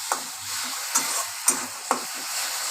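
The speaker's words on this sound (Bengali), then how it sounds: "আবার নাড়াচাড়া করে ভালো করে কষিয়ে নিচ্ছি মশলাটাকে।" Masala with a little added sugar being stirred and fried in a pan, a steady sizzle broken by four sharp scraping strokes of the spoon spaced about half a second apart, close and moderately loud with no voices.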